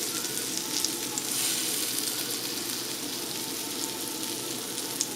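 French toast bites frying in a large pan, giving a steady, close, continuous sizzle with faint crackles throughout.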